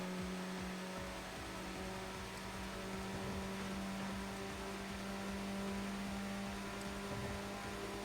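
Race car in Tokyo Xtreme Racer 2025 accelerating hard on nitrous, a loud, steady engine drone and whir that holds at high revs for the whole stretch with no talk.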